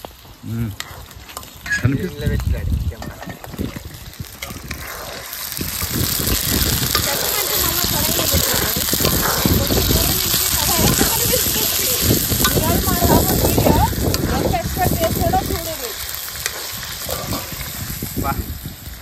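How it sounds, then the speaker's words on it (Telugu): Food dusted with salt and turmeric crackling as it fries in hot oil, a loud, continuous sizzle that swells after a brief opening and holds steady throughout. "ఉప్పు పసుపు వేసి నూనెలో వేసి ఉప్పు పసుపు చల్లుకొని"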